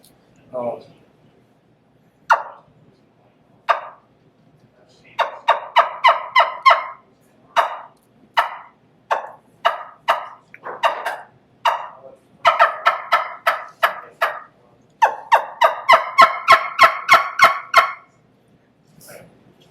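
A wild turkey caller or bird gives bursts of sharp, ringing yelps in quick rhythmic runs, loud and close, separated by brief pauses.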